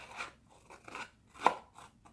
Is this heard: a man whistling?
no